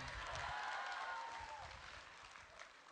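Faint audience applause at a motivational seminar, a soft continuous patter of clapping heard from a distance with a murmur of crowd noise.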